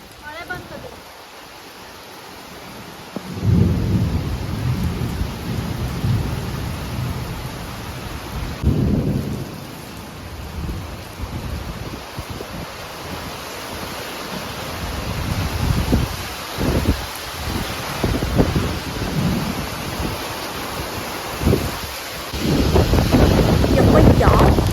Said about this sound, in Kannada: ಯಾವ ಥರ ಗಾಳಿ ಬರ್ತಿದೆ, ಮಳೆ ಬರ್ತಿದೆ ನೋಡ್ತಾರೆ